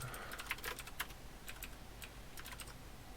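Someone typing on a computer keyboard, a quick irregular run of soft key clicks in bursts with short pauses, close but quiet, with no talking.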